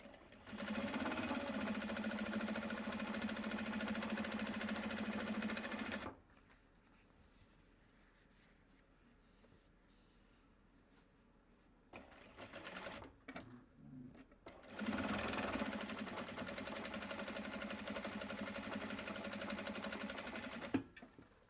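A sewing machine topstitches a Japanese fabric bag in two long, steady runs of fast rhythmic hum, close and loud, separated by a quieter pause with light handling and rustling before the second run starts.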